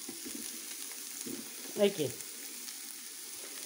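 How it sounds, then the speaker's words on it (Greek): Onion sautés quietly in a pan on a teppanyaki griddle, a steady soft sizzle running throughout, with a brief stirring scrape midway and a short spoken word. "Για αρχή θα τσιγαρίσουμε λίγο το κρεμμυδάκι μας"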